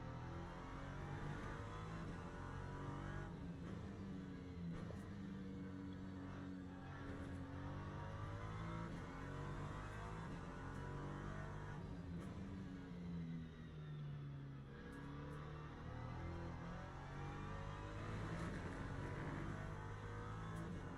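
An LM3 race car engine in the sim racing game Le Mans Ultimate revs, rising and falling through gear changes in a continuous loud drone, with no talking.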